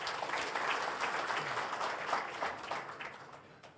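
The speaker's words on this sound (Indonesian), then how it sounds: "Tepuk tangan untuk semuanya" Meeting attendees applauding at the opening of a government technical work meeting, a fairly faint, continuous patter of many hands clapping at a distance.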